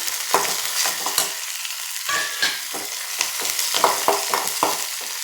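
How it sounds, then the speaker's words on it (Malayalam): Curry leaves dropped into hot oil for a Kerala moru curry tempering, with dried red chillies already in the pan, crackle and sizzle steadily while a spoon scrapes and stirs in repeated strokes, close and fairly loud. "കറിവേപ്പില ഇട്ട് കൊടുക്കാം."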